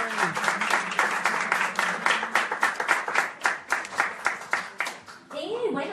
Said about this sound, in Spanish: Otro fuerte aplauso para ellos